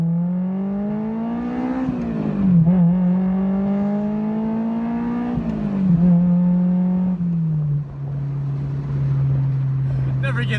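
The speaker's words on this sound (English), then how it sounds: "One more quick acceleration video for the road." A Honda S2000 pulls hard through the gears, its high-revving engine climbing in pitch in long sweeps, dropping sharply at each shift, then settling into a steady cruise drone near the end, loud and close.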